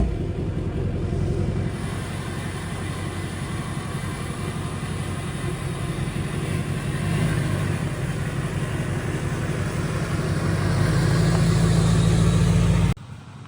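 A Duramax diesel pickup truck rolls into a shop, its steady low engine rumble filling the space throughout and cutting off abruptly at the end.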